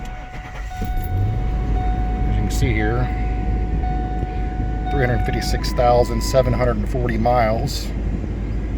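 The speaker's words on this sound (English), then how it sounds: "So I'm going to go ahead and start it up and let you hear it." A 2000 Ford Expedition with 356,740 miles and a replaced timing chain idles steadily with a low, even engine hum. Someone talks over it throughout.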